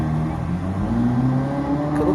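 A Ferrari sports car drives past close by, a steady engine hum and whir held across the whole moment with a slight rise at the end, with faint voices in the background.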